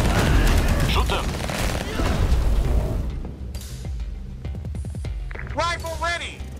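Heavy gunfire and booming blasts from a real-time strategy battle in Tempest Rising, dense and loud at first, then thinning into scattered single shots while unit voices call out over the action.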